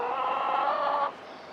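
Several chickens cluck and call steadily at a farm preserve, fairly close and clear for about a second before dropping to a quieter murmur.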